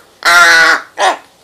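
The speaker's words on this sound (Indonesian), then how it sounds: "Burung gagak besar." A big black crow lets out a loud, raspy caw up close, followed quickly by a shorter second call.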